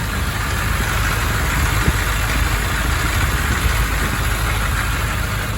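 A car engine idles steadily with a smooth, continuous low rumble, close by and unchanging throughout.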